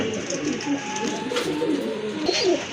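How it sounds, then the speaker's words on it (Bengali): Domestic pigeons kept in a pair for sale coo steadily in soft, rolling calls, close by and fairly continuous, over a low background murmur. "এখানে কিন্তু আরেক জোড়া কবুতর আছে"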